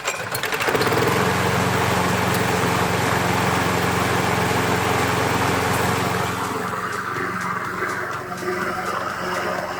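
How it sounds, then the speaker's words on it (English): A Craftsman self-propelled lawn mower with a 190cc Briggs & Stratton engine runs loud and steady, a continuous buzzing drone close by that eases slightly near the end. "I'll start it up and show you that the lawnmower does actually self-propel."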